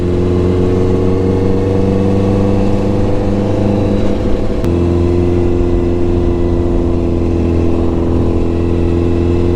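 Honda CBR1000RR sport motorcycle with an SC Project exhaust, a loud sustained engine drone on the move with a sudden shift in pitch midway, close and steady throughout.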